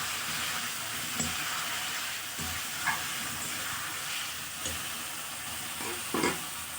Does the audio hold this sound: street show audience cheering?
no